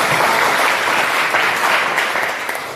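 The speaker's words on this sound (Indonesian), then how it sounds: "Berikan tepuk tangan." A classroom full of people clapping steadily, dense and close, slowly tapering off toward the end.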